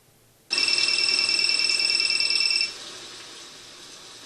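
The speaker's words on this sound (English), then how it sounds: "then it'll execute the cell phone cue" A cell phone ringtone sounds abruptly as a theatrical sound effect cue, a loud, steady electronic trill with piercing tones that rings for about two seconds, then cuts to a quieter lingering tail.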